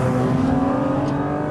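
Engine note of a 2023 Porsche Cayman GT4 RS while driving, a loud, steady, raw mechanical drone with strong harmonics filling the cabin, close and continuous with no talking.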